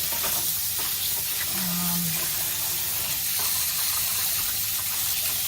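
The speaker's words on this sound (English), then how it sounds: "So I'm just going to run some water in this to get this icy part out in the middle." Tap water runs steadily into a frozen turkey in a kitchen sink, a continuous close hiss and splash with no talking over it.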